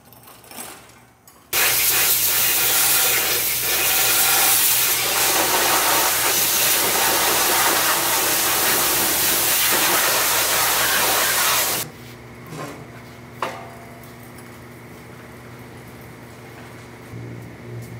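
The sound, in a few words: pressure washing an engine block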